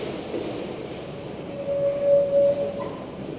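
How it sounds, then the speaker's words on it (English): A train carries rescue supplies along railway tracks into a gate at a collapsed mine site in Shandong, China, making a steady low rolling rumble with a sustained tonal hum swelling midway, heard from a distance. "Now we can see the supplies are being driven in through the railway tracks into the gate."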